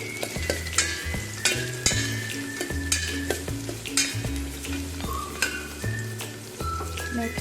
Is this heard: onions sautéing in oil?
yes